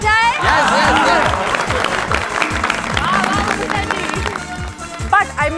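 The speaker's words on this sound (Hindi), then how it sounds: "तो उसके लिए जोरदार तालियां हो जाए।" Studio audience applause on a quiz show, loud continuous clapping and cheering with rhythmic thumps underneath and voices over it throughout.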